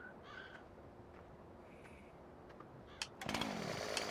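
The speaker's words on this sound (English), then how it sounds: "Not the chainsaw." A chainsaw in the farming video game Farming Simulator 17 rasps into life near the end. It buzzes over an otherwise faint, quiet outdoor ambience.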